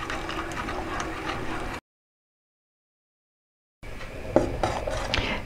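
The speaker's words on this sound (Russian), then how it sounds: "Медленной маленькой струйкой при постоянном помешивании" Grape juice and flour mixture is stirred in a pot on low gas while making churchkhela, a soft continuous scraping and sloshing of a spoon against the pot, broken by a two-second gap of silence.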